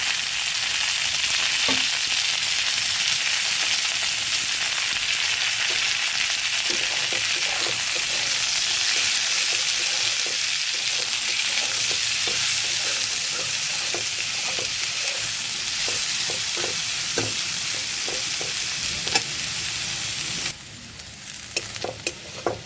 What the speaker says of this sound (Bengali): আলুটা অর্ধেকটা একটু ভাজা হয়ে গেছে এবার পেঁয়াজটা দিয়ে দেবো